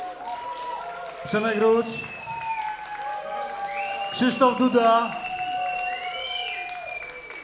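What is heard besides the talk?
audience applause for performers after concert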